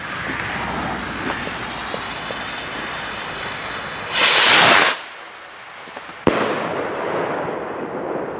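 New Year's Eve firework rockets go off outdoors: a fizzing rush over background noise gives way to a loud, roaring burst, a brief lull, then a sharp crack followed by more hissing.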